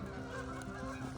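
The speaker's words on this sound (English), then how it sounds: "This is pure Canadian geese chaos." Canada geese fly in at a park, a dense chorus of overlapping honks that is loud and continuous throughout.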